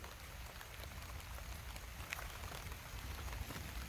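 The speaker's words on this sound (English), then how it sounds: "See? The rain." Rain falling outdoors in a fig garden, a faint, steady patter and hiss throughout with occasional slightly louder drops and no talk.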